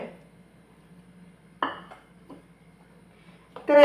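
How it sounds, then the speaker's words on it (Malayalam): A spoon stirs chopped onion and tomato in a pan for a bread snack, giving a few separate metallic clinks and scrapes with quiet gaps between them. "ഇതെല്ലാം കൂടെ ഇട്ടൊന്ന് മിക്സ് ചെയ്ത് കൊടുക്കാം നന്നായി."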